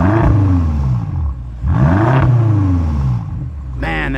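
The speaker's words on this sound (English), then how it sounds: "Let's get a little rev time with El Naz." BMW X5M on 21-inch M wheels revving hard, two loud rising engine pulls with deep exhaust roar close by, settling to a throaty idle between blips.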